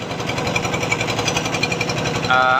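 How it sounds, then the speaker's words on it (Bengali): A trawler boat's engine chugs steadily and loudly as it passes close by on the Meghna River, a dense rhythmic mechanical throb with a rising tonal whine near the end, and no talk. "আমাদের পাশ দিয়ে যে ট্রলারটি গেল"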